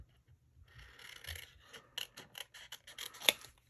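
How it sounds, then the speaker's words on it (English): Scissors snip through linen thread for a paper-craft stamping project, a series of small, close, dry cuts and rustles building to one sharper snip near the end. "we're going to cut out a bow using our linen thread"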